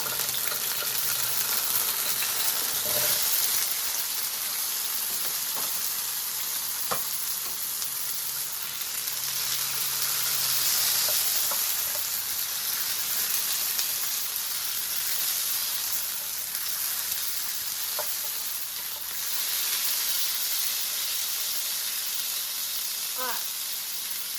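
Fresh tomatoes sear for tomato sauce in a pan over medium-high heat, giving a steady, even hiss of sizzling that runs throughout, with an occasional faint clink or stir.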